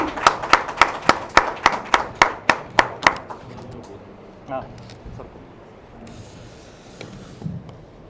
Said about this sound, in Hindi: साथियों तालियों से स्वागत होना चाहिए